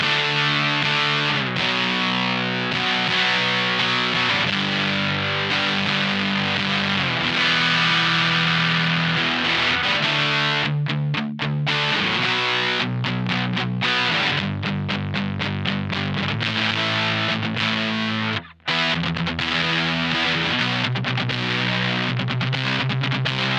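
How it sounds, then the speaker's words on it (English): An electric guitar plays through a drive pedal, its crisp distorted tone continuous and loud, with sustained chords and some choppy rhythmic stabs in the middle section. "We still get some pretty cool, crispy, distorted sounds."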